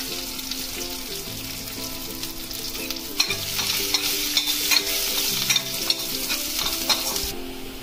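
Mustard seeds, curry leaves and garlic sizzle in hot oil for leftover-rice fodnicha bhat, a steady crackling fry with sharp spatters and popping bursts near the end, close and loud against faint background music.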